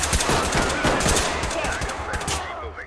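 Rapid bursts of gunfire from the video game Ready or Not crackle in quick succession, loud and close, in a busy, noisy soundscape.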